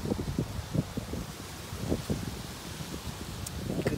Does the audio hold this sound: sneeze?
no